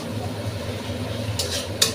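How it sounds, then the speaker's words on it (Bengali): Spice masala frying in a pan with a splash of water for a Katla fish head and cauliflower curry: a low, steady sizzle with a couple of quick scraping stirs toward the end. "মশলাটা ভালোভাবে আমি একটু নাড়াচাড়া দিয়ে ভেজে নেব"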